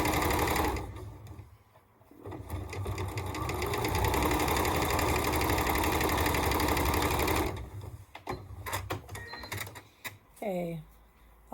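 A sewing machine runs in a long steady whirring burst while stitching the seams of a nine-patch quilt block, then stops and gives a few shorter stitching bursts with small clicks and handling noises.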